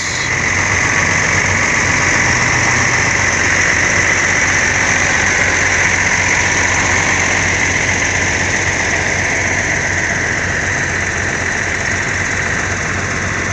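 A bus engine idles in a steady, loud, continuous rumble with an even mechanical drone and no change in pace throughout.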